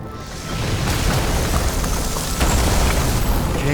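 A burning transformer explodes in the video game Nobody Wants to Die, a loud, sustained rumbling boom that fills the whole stretch with dense low-end roar and no voices.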